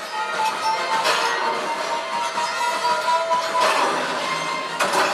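A steady rumbling train clatter fills the space, with metallic whines and rising bursts of noise, like a ride rolling along a track.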